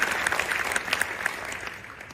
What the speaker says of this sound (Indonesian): Sekali lagi tepuk tangan untuk tim pujian kita hari ini.